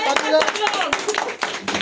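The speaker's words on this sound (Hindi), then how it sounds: "सब लोग ताली बजाओ" Group of children clapping their hands at a school visit, a burst of quick, uneven claps up close, mixed with voices talking over them.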